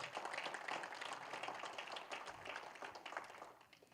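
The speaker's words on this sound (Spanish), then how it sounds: "Den un aplauso a Cristo, por favor." A church congregation at a revival service breaks into sustained applause, a dense wash of many hands clapping steadily at a fairly loud level, with scattered voices mixed in.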